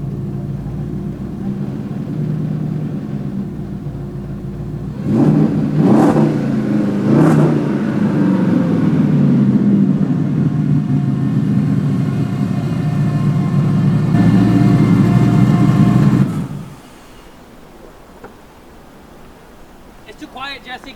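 A twin-turbo Ford F-150 with a new exhaust idles with a deep low rumble, then revs to a louder, throaty drone for about ten seconds and drops back. Someone speaks over the engine.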